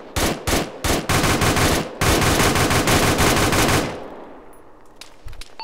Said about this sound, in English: I had a loud gun going off